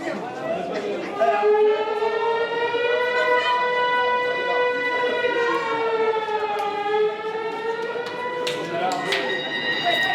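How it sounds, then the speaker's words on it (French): A loud wailing siren at a live wrestling show rises and holds a long harmonic tone for about ten seconds, steady and dominant over faint crowd noise. "J'aime ces sirènes."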